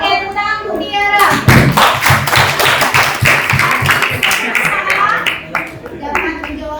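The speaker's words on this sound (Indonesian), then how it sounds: "Oke, tepuk tangan untuk Tiara." A high school classroom breaks into applause for a student, a burst of many hands clapping close by that swells and then tapers, with children's voices talking over it.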